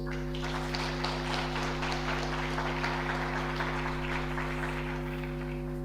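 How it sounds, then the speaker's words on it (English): An audience at an oncology scientific conference applauds a speaker with even, continuous clapping over a steady electrical hum, moderately loud and without talk. "I really feel that she deserves a huge round of applause"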